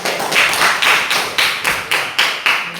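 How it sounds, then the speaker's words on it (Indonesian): A class of students claps in a close, rhythmic pattern, about eight or nine sharp bursts of hand claps in steady succession with little else around them. "sekali lagi tepuk tangan buat kita"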